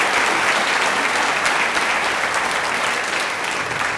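Sustained, loud audience applause fills a high school auditorium at a National Honor Society induction ceremony, dense clapping from a large crowd holding steady without pause throughout.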